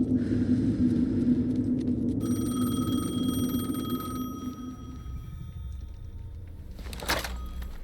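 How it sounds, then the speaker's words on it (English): A telephone rings in the Alan Wake 2 video game, a steady electronic trill lasting several seconds over a low ambient rumble before it stops, leaving quiet room tone and a soft thud. "Phone again."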